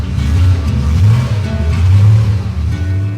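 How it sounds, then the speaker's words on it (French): A vintage car engine revving loud and close, its deep rumble swelling twice with throttle blips and easing back between them, with no voices over it. "c'est un bruit de moteur"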